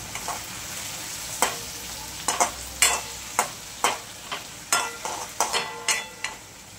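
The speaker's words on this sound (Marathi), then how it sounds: "तर आता सोया सॉस गेला आणि मिक्स करून घेऊ." Chow mein with soy sauce stirred in a hot pan, a spatula scraping and clacking against the metal in a steady series of sharp strokes over a soft, continuous sizzle.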